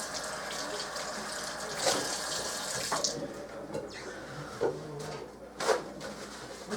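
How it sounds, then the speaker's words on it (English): Tap water runs steadily into a kitchen sink while hands are rinsed, a continuous close splashing stream with a few small knocks and clatters over it. "let me rinse my hands off."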